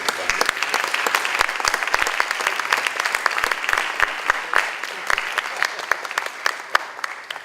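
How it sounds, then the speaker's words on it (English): A conference audience applauds its sponsors at a public health event, a dense steady patter of many hands clapping at close range, holding even for the whole stretch with sharp individual claps poking out. "Can I hear a round of applause for those sponsors?"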